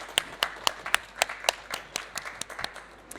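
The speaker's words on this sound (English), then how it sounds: "So maybe a joint applaud for both the introduction and for the new speakers." A small audience at a climate adaptation business talk claps sparsely, about a dozen distinct hand claps in an uneven rhythm, fairly faint and unaccompanied.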